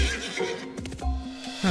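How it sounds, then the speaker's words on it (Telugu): A horse gives a loud, close whinny as it jumps over a wall, with a second neigh near the end over low rumbling background noise. "ఆ హార్స్ ఈ గోడ మీద నుంచి ఎలా జంప్ చేస్తుందో చూడు"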